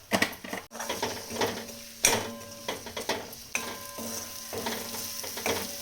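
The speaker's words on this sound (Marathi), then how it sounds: "सगळे मसाले आता छान भाजून घेतले" Spices and turmeric roast in a pan on a home stove, with intermittent sizzling and scraping stir strokes and a few metallic clinks of a spoon against the pan, close and moderately quiet.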